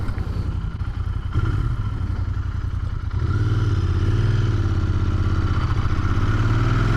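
A Royal Enfield INT 650 twin engine chugs at low revs, then pulls away in second gear with a deep, labouring rumble that grows steadier and slightly louder, heard close with mechanical clatter.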